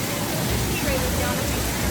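An indoor waterfall at the Rainforest Cafe in Animal Kingdom gives a steady, loud, even rush of falling water from nearby that fills the whole stretch.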